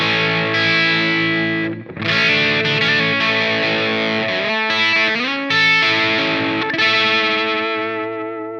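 Electric guitar through an EarthQuaker Devices Zoar dynamic distortion pedal, sustained chords and shifting notes ringing with dense, buzzy, heavily saturated harmonics, loud and close with no talk.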